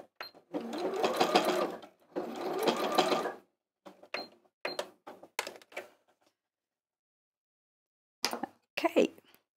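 A sewing machine top-stitches a backpack pocket in two steady runs of fast mechanical stitching, followed by short bursts and pauses, close and clear.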